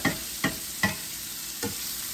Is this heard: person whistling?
no